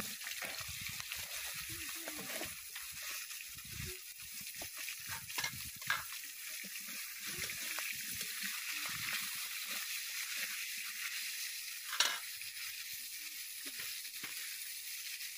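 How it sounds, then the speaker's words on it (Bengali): Quiet, steady sizzle of drumstick vegetable (moringa pods) frying in a pan, with soft stirring scrapes and an occasional clink; the frying stays low and distant. "এবার সজনে ডাঁটা ভেজে নেব"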